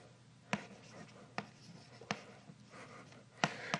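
Chalk tapping and scraping on a board during a physics lecture, a handful of sharp, close strokes spaced irregularly over a quiet room.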